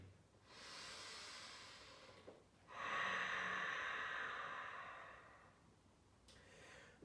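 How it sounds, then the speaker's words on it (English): Slow, deep breaths drawn in and let out during a yoga flow, two long airy exhales and inhales heard close up with no talking. "breathe deeply"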